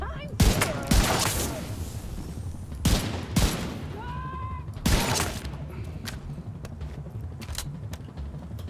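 Gunfire in The Division 2 crackles in several sharp bursts of shots, loud and close, with a few scattered single reports trailing off as a voice talks in between.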